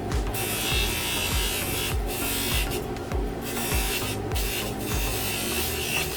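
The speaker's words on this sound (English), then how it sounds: "And start polishing it." A power tool polishes a metal coin pendant with a steady, loud whirring buzz that holds throughout, broken by a short rhythmic pulse, with no talking.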